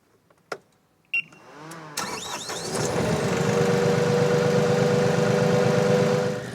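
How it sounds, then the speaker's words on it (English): An Avant articulated loader with a hydraulic-motor steel brush used to clean cobblestone joints on a farm. It starts with a few clanks and clicks, then its engine and hydraulic drive rise into a steady, close, droning hum. "So I'm using this steel brush with a hydraulic motor to swipe out the joints in between the cobblestones."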